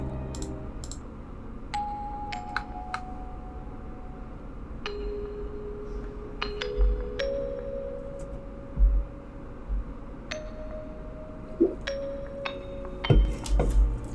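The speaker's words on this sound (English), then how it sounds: "We have this sort of Celeste music box, sort of bell type of thing." Delicate bell-like celesta notes chime one at a time in a slow, simple melody, clear and close over a faint background hiss.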